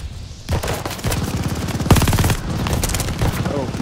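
Automatic gunfire in Call of Duty Vanguard multiplayer, loud rapid bursts with sharp cracks and short pauses between strings of shots, while a voice talks underneath.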